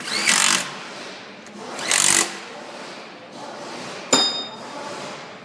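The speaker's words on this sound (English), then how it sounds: "At this point we can tighten these two 8mm bolts that hold the reservoir on." Two short bursts of a power tool driving the 8mm bolts that hold the coolant reservoir on a Ford 6.0L Powerstroke diesel, followed by a sharp metallic clink, all close and with no one speaking.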